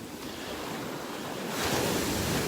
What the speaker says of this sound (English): The waves are pounding up here today.